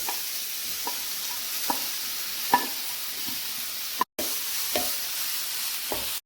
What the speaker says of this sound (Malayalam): അതേ പാനിലേക്ക് നമുക്ക് ഗ്രേറ്റ് ചെയ്ത് വെച്ചിരിക്കുന്ന ക്യാരറ്റ് ഇട്ട് കൊടുത്തൊന്ന് മിക്സ് ചെയ്യാം